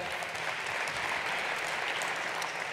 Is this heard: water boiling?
no